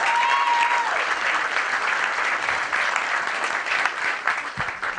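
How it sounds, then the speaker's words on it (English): Sustained applause from a large audience, loud and even, tapering slightly toward the end. "Let's give him a big round of applause, ladies and gentlemen, once again."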